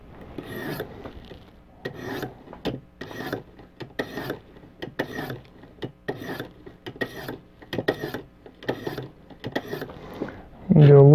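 A knife is drawn back and forth over oiled ViperSharp sharpening stones, moving to the finer grits: about a dozen steady, close rasping strokes in an even rhythm, ending with a sharper knock.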